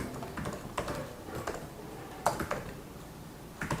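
Soft typing on a computer keyboard during a C++ Allegro 5 programming session, a few scattered light key clicks in irregular bursts over a quiet room background.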